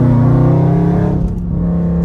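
A 1,000 HP Hellcat engine roars loud and steady at close range as the throttle is pressed, a dense rumbling drone holding throughout with a slight dip in tone partway through.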